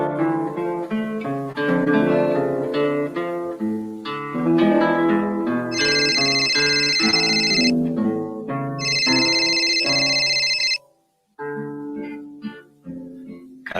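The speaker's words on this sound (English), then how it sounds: "A phone call woke me up" An old-style telephone bell rings in two long, loud bursts over a sung melody with instruments, then falls silent before the music carries on.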